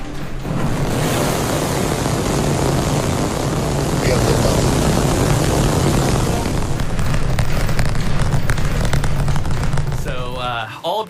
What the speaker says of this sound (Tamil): அதிநவீன ஸ்டார்ஷிப் V3 விண்கலத்தை வெற்றிகரமாக ஏவி பரிசோதித்தது எலான் மஸ்கின் ஸ்பேஸ் எக்ஸ் நிறுவனம